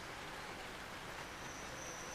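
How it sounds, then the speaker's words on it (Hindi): Steady rain falling through an evening, a dense, even hiss of drops filling the whole moment without pause, fairly loud and close, with no voices. "शाम से बारिश शुरू हो गई।"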